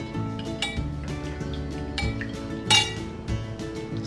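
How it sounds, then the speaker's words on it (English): Spoon stirring a lip balm mixture with added essential oil in a container, light clinking and scraping taps at close range, uneven rhythm with one sharper clink. "Get that stirred around."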